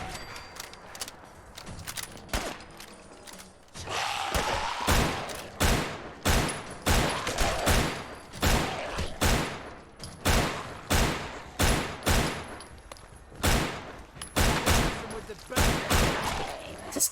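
Video game gunfire rings out in a rapid series of sharp, loud shots with short pauses between bursts, close and dominant throughout.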